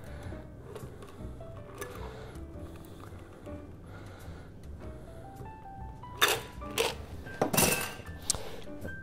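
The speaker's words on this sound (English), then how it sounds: "I'm gonna double strain this over ice" A green cocktail double strained over ice into a tiki mug, with a soft liquid pour, then bright clinks and rattles of ice and glass near the end, close and fairly quiet.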